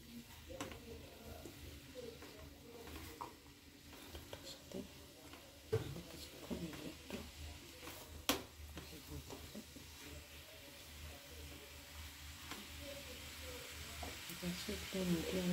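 Onion, capsicum, tomato and a spoonful of butter fry in a pan, giving a quiet, steady sizzle with occasional stirring scrapes and clatter that grows slightly louder toward the end.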